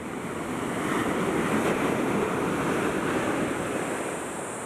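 Ocean waves surge and break against rocks at Manuel Antonio National Park, a continuous close, loud wash of churning surf with some wind buffeting, no voices.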